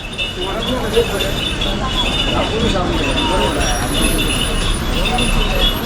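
A bus pulls into the Sangameshwar bus stand in Ratnagiri on the Dapoli–Sawantwadi route, its steady engine rumble and road noise filling the scene with people talking over it.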